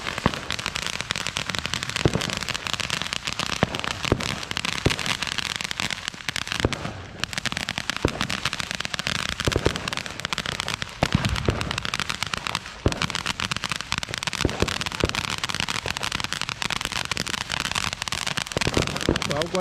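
Firecrackers go off for the Fourth of July in Freeport, Texas, a dense, continuous crackling barrage of rapid sharp pops that runs nonstop for about twenty seconds.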